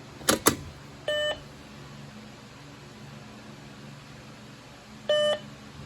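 Two short electronic beeps of a Simplex 4007ES fire alarm panel during a walk test sound a few seconds apart over a low background hum, following a couple of brief clicks at the start.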